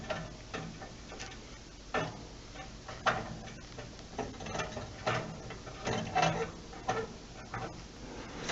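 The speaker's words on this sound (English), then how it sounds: "So I'm turning it with crescent wrench here." Crescent wrench turning a pilot line fitting under a Bradford White power vent water heater, a run of small metallic ratcheting clicks and ticks at a loose, uneven rhythm, close and moderately quiet.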